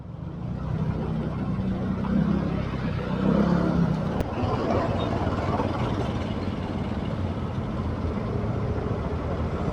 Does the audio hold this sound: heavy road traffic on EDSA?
yes